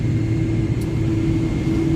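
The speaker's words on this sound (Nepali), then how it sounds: "साथीहरू यो प्लेन अब उड्ने तर्खरमा छ। अझै त सुस्तै चलिरहेछ।" A passenger airplane taxis slowly before takeoff on a trip from Nepal to New Zealand, giving a loud, continuous low engine rumble with a steady droning hum and no speech.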